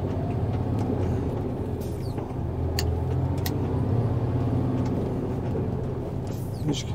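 Inside a truck cab, a steady low engine rumble and road drone fill the whole stretch while the driver shifts into third gear, with faint clunks on top and no clear talking.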